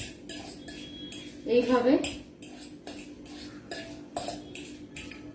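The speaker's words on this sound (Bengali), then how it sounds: "জাস্ট মিশিয়ে দিচ্ছি" A spoon clinks and scrapes against a bowl while mixing a thick sugar mixture for sugar lace, with a short burst of stirring and then lighter taps, heard close up alongside brief speech.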